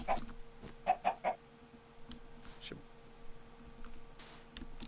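A few short Minecraft chicken clucks in a quick burst, then scattered softer clucks over a quiet background.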